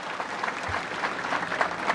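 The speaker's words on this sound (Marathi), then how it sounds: "एकदा टाळ्या वाजवून त्यांचं सुद्धा अभिनंदन आपण करा" Audience at a Marathi political rally applauds steadily, a dense, continuous patter of clapping from a large crowd heard at moderate distance with no talk over it.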